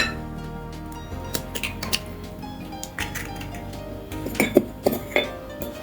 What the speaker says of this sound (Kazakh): Оның үстіне бір жұмыртқамызды шағамыз.